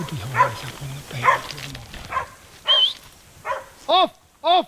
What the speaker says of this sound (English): Dogs are behind us up on the bank.